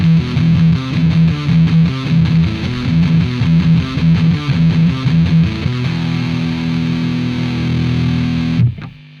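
An electric guitar played through the Ampire amp simulator in Studio One on its clean channel, with a rhythmic repeated riff, then sustained ringing chords that cut off abruptly at the end.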